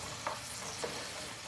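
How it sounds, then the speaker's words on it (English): Onions sweat in a pan with a soft, even sizzle and a couple of faint stirring scrapes, brief and quiet, without speech. "I'm gonna sweat these onions, you know, just break them down."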